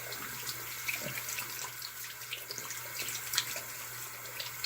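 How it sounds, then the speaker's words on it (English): Tap water running steadily into a sink or shower while hands are washed, a soft continuous splashing hiss with small irregular splashes and a faint low hum underneath, no voices. "First, you wash your hands."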